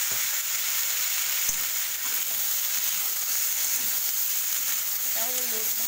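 Malabar spinach (pui shak) fries in a pan with a steady, bright sizzle that continues throughout, with a faint stir or clink now and then.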